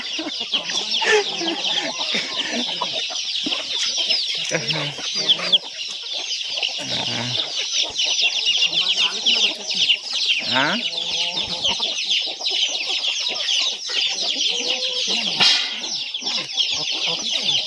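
Wild junglefowl cross hens and their chicks cluck and cheep continuously while feeding close by, with a dense chorus of peeping chicks and occasional louder hen clucks, without talk.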